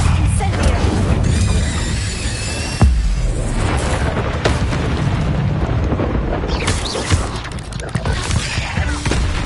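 A loud, sustained fiery blast from the Incendio spell in Hogwarts Legacy roars and crackles, with booming impacts and bursts layered throughout.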